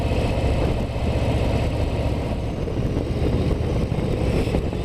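A Harley-Davidson Low Rider ST motorcycle's 117 engine idles continuously at close range, a low, even rumble with no pauses and no voices.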